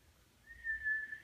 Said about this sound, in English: You can't whistle.